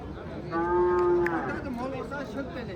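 A cow lets out one long, loud moo close by at a livestock market in Bulungʻur district, Uzbekistan, trailing off into a quieter, lower murmur amid faint background noise.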